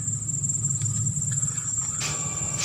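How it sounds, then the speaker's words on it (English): Crickets trill on a grassy mountain-top prairie at Mount Bud Tukay in Parang, Sulu, Philippines, a steady high-pitched continuous chirring that holds throughout over a faint low background hum. "We can hear the sound of the chirps of crickets"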